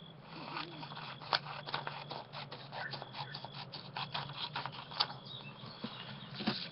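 Scissors snip through a sheet of paper being cut into smaller pieces for a handmade mini journal, giving a run of quiet, close, irregular crisp clicks and rustles with no talking.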